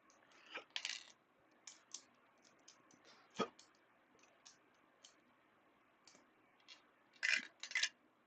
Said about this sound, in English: throwing all my dice and shit out